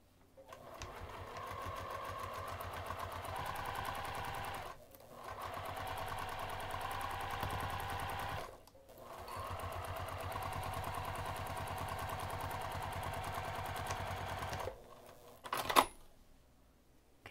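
A sewing machine stitches a half-inch seam on a craft bag in three long runs, a steady buzzing whir broken by two short pauses, ending with a few clicks.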